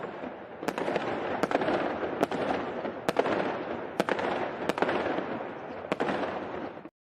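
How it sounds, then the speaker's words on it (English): Fireworks bursting in a rapid series of sharp cracks and booms over a continuous rumbling crackle, loud and close, ending abruptly. "You get the first fireworks, maybe of the year."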